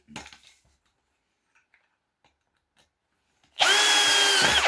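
Lathe chuck jaws clamp onto a faceplate carrying a large piece of ash: a few faint clicks and knocks, then a sudden loud whirring burst near the end, close by with no speech.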